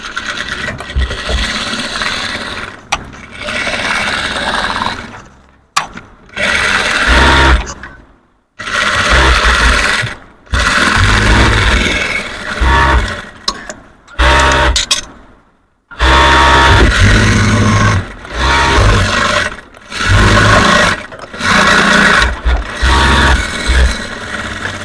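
Sewing machine stitching a joined seam on a three-piece dress, running loud and close in repeated bursts of steady mechanical whirring separated by short pauses.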